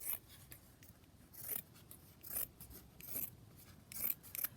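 Scissors snip through fabric for shabby chic fabric flowers, a series of close, crisp rasping cuts spaced irregularly over a few seconds, with no talking.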